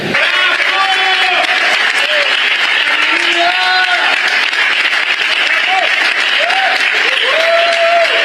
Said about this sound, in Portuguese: ela vai estar recebendo a nossa homenagem e o nosso aplauso